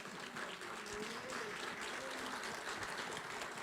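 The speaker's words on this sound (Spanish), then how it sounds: "Dele ese aplauso al Señor." A church congregation at a Sunday service claps together in sustained, even applause, many hands blending into a dense wash heard from within the room, with faint voices underneath.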